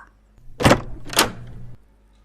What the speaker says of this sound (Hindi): फिर दरवाजा अपने आप बंद हो गया।